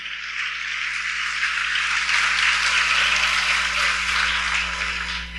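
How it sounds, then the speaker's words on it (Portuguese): A church congregation at a women's conference applauds in a steady, dense wash of clapping that holds at an even level throughout, with no voices on top. "Se você entendeu, aplauda o Senhor"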